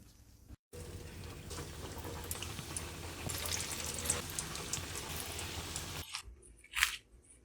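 Potato samosas deep-frying in hot oil, a dense steady crackling sizzle running continuously with a brief gap near the start, fading to near silence with a couple of sharp clinks toward the end.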